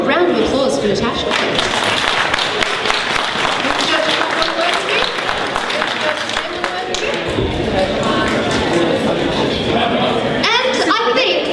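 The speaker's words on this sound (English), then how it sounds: "Have a round of applause for Natasha." Audience at a cosplay contest applauds a costumed contestant at a festival, sustained clapping filling the space with crowd chatter, and a voice speaks over the applause.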